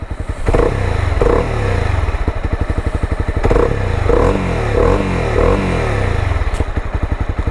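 A nearby Honda CB300R motorcycle exhaust revs repeatedly toward higher RPMs, the engine note rising and falling over a throbbing idle with several sharp throttle blips.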